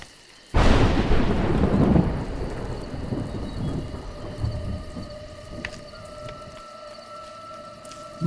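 Thunder in the video game A Juggler's Tale: a sudden loud crack that rolls into a long, deep rumble and slowly fades, with faint rain and tonal ambience underneath.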